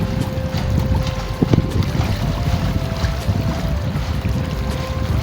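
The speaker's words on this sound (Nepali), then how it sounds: "हावा चाहिँ लागेको छ एकदमै हावाले चाहिँ लागेको छ" Strong wind gusting across the microphone at a river bank, a constant loud roaring rumble with a brief buffeting burst, with no voices present.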